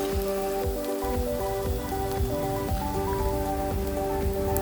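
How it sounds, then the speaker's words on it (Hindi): Chopped onions frying slowly on a low flame for Amritsari sarson ka saag, an even, dense crackling sizzle like light rain that holds steady throughout, with a faint steady hum beneath and no speech. "इसको हल्का सा भून लेंगे वापस धीमी आंच पे"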